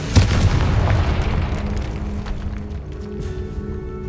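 A Confringo fire spell explodes in the Hogwarts Legacy video game, a single deep boom right at the start that rolls out into a long, fading rumble.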